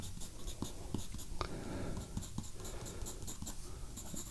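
Graphite pencil scratches on paper while drawing fur, giving close, soft, continuous scratching with short quick strokes at an uneven rhythm.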